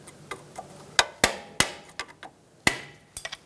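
Hammer taps on a front strut bracket of a 2013-2020 Nissan Pathfinder, struck to break it free: a series of sharp metallic knocks, about a dozen, irregularly spaced with several louder blows, close and alone without talk.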